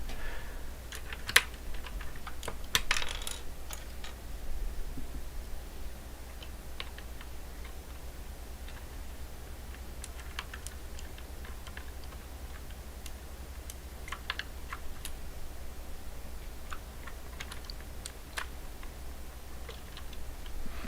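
Faint, sparse keystrokes on a keyboard of modest quality, scattered clicks over a low steady hum, mostly distant and soft throughout.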